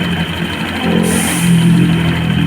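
An engine idles steadily nearby after a belt replacement, a smooth continuous hum with a slight rise partway through and no talking.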